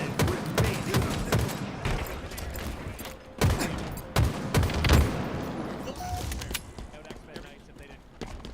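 Rapid bursts of gunfire from a video game capture-the-flag championship match, sharp cracks in irregular volleys under a voice talking.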